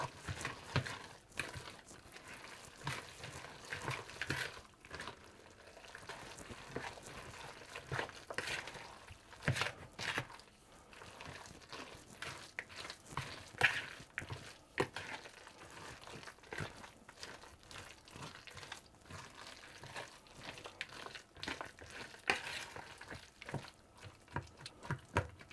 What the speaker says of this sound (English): I'm going to use my Danish whisk